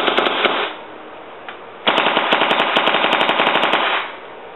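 A Planet Eclipse Etha paintball marker fires indoors without paint: one short rapid burst, a brief pause, then a longer burst of loud, evenly spaced pops before it stops.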